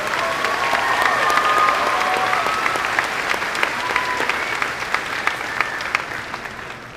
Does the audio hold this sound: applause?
yes